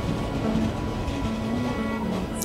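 Steady rumbling clatter of a train crossing the Nashipur rail bridge, a continuous mechanical roar with no voices.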